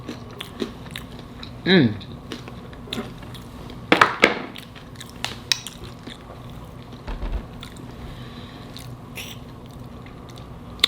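Crunchy bites and wet chewing of homemade chips and a tuna fish sandwich, close and fairly quiet, a few distinct crunches spaced apart with soft hums of enjoyment between them.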